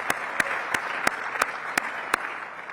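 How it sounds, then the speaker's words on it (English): Applause from an audience at a Washington DC economic partnership meeting, a steady wash of moderate clapping with a few sharper claps standing out at regular intervals. "I think it's worth applause."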